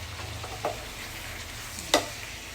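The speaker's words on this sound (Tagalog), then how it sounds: "Yung hipon guys, mabilis lang maluto." Shrimp cook in a pan for butter garlic shrimp, a steady close sizzle and frying hiss with two brief sharper clinks of stirring.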